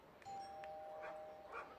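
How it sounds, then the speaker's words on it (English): A doorbell chime rings out over the sound system at Arm & Hammer Park baseball stadium, a ding-dong tone that rings on briefly, heard moderately loud against crowd ambience, with a faint dog bark. "Now the doorbell sound effect played over the sound system here at Arm & Hammer Park."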